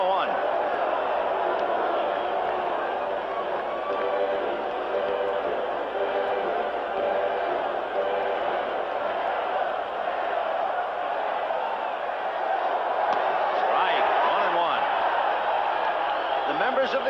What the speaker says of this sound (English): listen to this crowd. They're alive now.